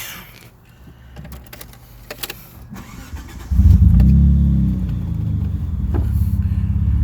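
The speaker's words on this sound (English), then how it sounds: "So that's her starting up on a cold start." A Mitsubishi 3000GT engine cold-starts, cranking and catching after a few seconds of faint clatter, then settles into a loud, steady low rumble close by.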